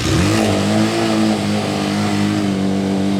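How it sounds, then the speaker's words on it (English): A Suzuki ST250 motorcycle idles in neutral with the clutch pulled in, and its engine rises in a loud, close rev under throttle before settling back to a steady hum, with no one talking. "So I'm going to give it a bit of throttle there."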